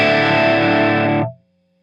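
Electric guitar runs through a Logic Pro X amp plugin set at the edge of breakup. One loud, slightly gritty chord sustains for about a second, then is cut off quickly, with no voices.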